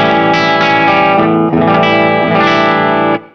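Electric guitar through a Black Cat Bee Buzz fuzz pedal with its boost switched on: a thick, buzzing, distorted chord and note phrase rings loud and close, then cuts off at the end.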